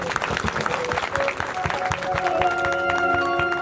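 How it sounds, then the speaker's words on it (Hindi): A seated congregation inside a pandal at a satsang gathering breaks into hearty applause, dense clapping rising and lingering alongside a droning harmonium-like tone. "एक जोरदार ताली मेरी साथ संगत के लिए हो जाए।"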